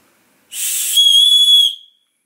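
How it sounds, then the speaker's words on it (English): A loud, shrill whistle blown in one sustained blast of about a second and a half, breathy at the start, then a steady piercing tone. "There's a whistle."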